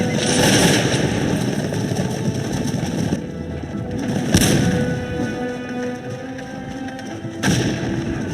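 Musket and artillery fire rolls through a Cossacks 2 battle between Poland and Russia, with dense crackling volleys and a few heavier booms over a steady din.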